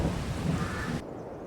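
Rain and thunder in the farming game Farming Simulator 22, a broad steady rumbling wash of rainfall with low thunder, cutting off abruptly about two-thirds through.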